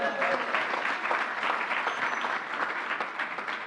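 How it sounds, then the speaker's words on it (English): Audience applause at a live COVID-19 update event in New York, a steady, dense round of clapping from a crowd, moderately loud and continuous throughout with no talk over it. "Let's give him another round of applause."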